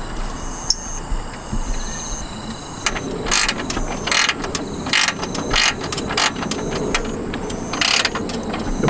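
A ratchet wrench tightens a nut onto a protruding bolt of a Chevrolet Trailblazer dual horn, giving repeated bursts of close, crisp clicking with short pauses between strokes, heard alone.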